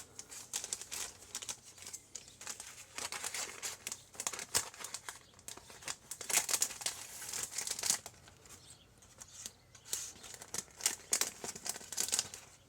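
Paper cutouts crinkle and rustle steadily as they are slipped back into an envelope alongside a card, close up, with irregular bursts of crisp crackling and no talking.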